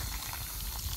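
Water pours into a cement mix for making garden bricks, a soft continuous hissing trickle heard close and fairly faint.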